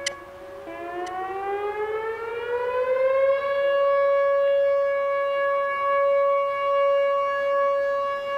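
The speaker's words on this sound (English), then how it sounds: "Sirens went off, and then they went off for a while and then stopped." A civil defense siren during a derecho storm in Iowa winds up from a low pitch to a sustained, loud wail that wavers slightly as it holds, with no voices.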